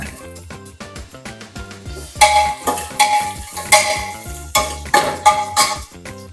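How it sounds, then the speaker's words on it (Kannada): Two onions fry in a pot for spicy mutton pulao, stirred with a spoon that scrapes and clinks against the metal over a sizzle, with music playing behind. "ಇದೆಲ್ಲ ಒಂದು ಸ್ವಲ್ಪ ಹುರ್ಕೊಳ್ಳೋಣ. ಇದಕ್ಕೆ 2 ಈರುಳ್ಳಿ ಸೇರಿಸ್ಕೊಳ್ಳೋಣ."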